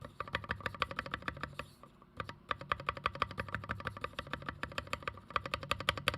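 Rapid, steady typing on a custom-built KBDfans mechanical keyboard with lubed switches, close, crisp hollow-sounding clacks in a continuous stream with one brief pause.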